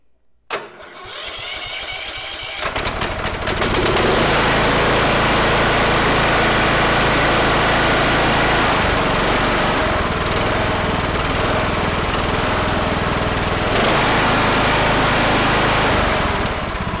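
An engine being checked for a leaking head gasket cranks with a few sputters, catches, then roars up to a loud, steady close-up run that holds to the end. A brief dip in the middle and a slight surge near the finish break the run.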